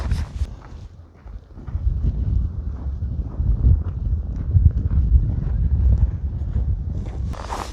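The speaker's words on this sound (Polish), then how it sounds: "i teraz zmaga się wiatr. Wiatr jest naprawdę lodowaty." Steady, gusty, icy wind buffets the microphone with a low rumbling roar throughout, rising and falling in strength, in Jantar, Poland.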